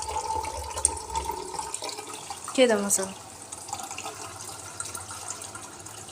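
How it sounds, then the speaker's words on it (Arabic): Tap water runs into a pot to be used for cooking rice in a home kitchen, a steady splashing stream that swells briefly midway, while someone talks nearby. "نملى ميه عشان بعد ما نحمر الرز نحط الميه"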